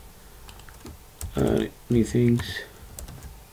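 Card details typed on a computer keyboard, a few quick clusters of clicking keystrokes mixed in with a voice speaking nearby.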